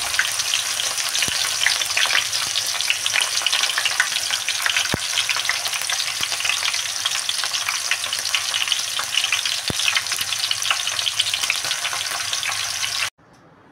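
Onion pakodas fry in hot oil with a dense, steady sizzle and crackle that stays loud and close throughout, then cuts off abruptly at the end.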